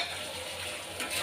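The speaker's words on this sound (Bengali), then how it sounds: "একটু মশলা ধোয়ার জল দেব" Water used to rinse the spice containers is poured onto powdered spices frying in oil in a pan, while making a spicy oil curry of fish head and tail with potatoes; a steady close rush and hiss of liquid throughout.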